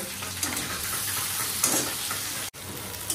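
Potatoes and onions fry together in a pan with a continuous close sizzle, broken by scraping stirs of a utensil and a brief clatter near the end, no talking.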